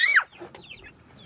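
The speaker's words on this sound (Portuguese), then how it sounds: "Mas, ó, a galinha grande tá ali, ó, tomando conta." A hen in a farm chicken coop gives a single loud, close cluck-squawk, followed by softer, faint clucking and rustling in the background.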